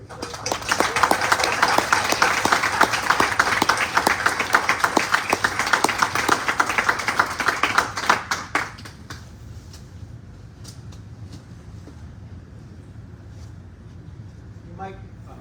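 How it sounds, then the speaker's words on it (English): Audience at a township council meeting claps loudly for about eight seconds, dense rapid applause that cuts off abruptly, leaving quiet room tone with a brief voice. "So a big round of applause and thank you"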